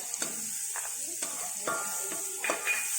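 Garlic, ginger and chili stir-frying in a pan for Thai-style fried rice, a steady sizzle broken by several scraping stirs of a utensil against the pan, with light clatter throughout.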